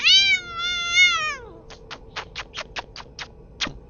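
A cat lets out a long drawn-out meow followed by a rapid series of short, sharp squeaky chirps, close and clear with no talking.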